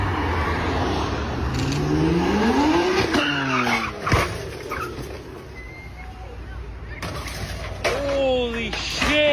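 A modified green BMW revs and pulls away from a dealership lot on a street, its tires squealing in rising sweeps amid loud, busy traffic noise, with voices audible over the scene.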